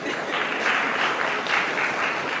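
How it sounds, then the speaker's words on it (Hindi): Steady applause from an audience of young people at a youth conference, sustained and fairly dense throughout, with no talking over it. "देखिए, तालियां भी लड़कियां ही बजा रही हैं आगे।"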